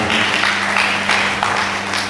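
A church congregation applauding, a dense, steady patter of many hands clapping close by, with no talk over it.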